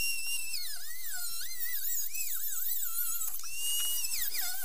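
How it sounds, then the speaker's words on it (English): A body saw cuts through rusty rear passenger floor sheet metal on a 1976 Mazda RX-5 Cosmo under restoration, giving a steady, loud high-pitched whine with wavering pitch that briefly dips mid-cut. "I had to use the stupid body saw"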